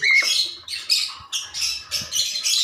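A caged pair of breeding birds squawk loudly and close by in a rapid series of harsh, bursting calls, one after another with barely a pause, no people talking.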